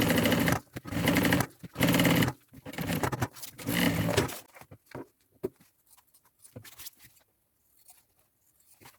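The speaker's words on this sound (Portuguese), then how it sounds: "Desço aqui o forro aqui para trás e vou rebater essa costura." A sewing machine topstitching the lining seam of a thermal backpack, several close rapid bursts of stitching separated by short pauses, then it goes quiet with only faint handling clicks and fabric shuffling.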